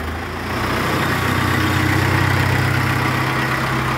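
A modified Arjun 555 tractor fitted with a 4-speed gearbox runs at a steady idle close by, a low, even diesel throb that swells slightly after the first half second and then holds without a break.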